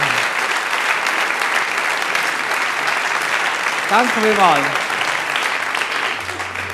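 An audience claps in a sustained round of applause at a live stage show, dense and steady throughout, while someone speaks briefly over it near the middle.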